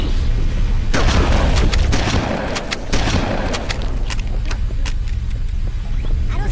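Repeated shotgun blasts in the Halo video game, loud and close, several sharp booms in quick irregular succession over a dense battle din with rumbling low background.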